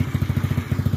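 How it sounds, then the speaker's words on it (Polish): A Peugeot Tweet 50 scooter's small engine idles after starting, a steady close putter of evenly spaced low pulses with no talk over it. "Skuterek odpalony."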